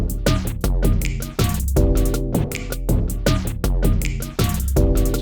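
A Roland TR-6S drum machine loops an accented pattern of punchy kicks, snappy hits and bright percussion in a tight, repeating groove, with no talking.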